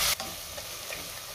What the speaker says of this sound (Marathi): त्यामध्ये आता आलं लसणाची पेस्ट घालायची आणि पुन्हा 1 मिनिटभर चांगलं परतून घ्यायचं आहे